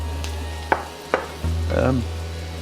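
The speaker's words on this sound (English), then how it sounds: "I'm going to start putting some of this tomato sauce" Diced tomatoes go into a hot frying pan with paprika for Spanish eggs with ground beef and spicy sausage: a few sharp utensil clicks and scrapes, then a soft rising sizzle as the food is stirred over a steady low hum.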